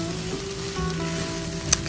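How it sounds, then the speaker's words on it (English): Mint tofu and vegetable fried rice stir-frying in a hot pan, a steady close sizzle running throughout with a brief sharper crackle near the end, no talking. "Continue stir frying."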